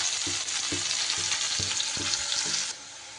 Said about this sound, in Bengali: উচ্ছেগুলো কিন্তু আমার খুব সুন্দর করে লাল লাল করে ভাজা হয়ে গেছে।